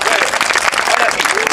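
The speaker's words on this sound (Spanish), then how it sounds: "Aplauso fuerte, gracias señora." A crowd claps steadily throughout a magic show, a dense wash of applause with voices mixed in underneath.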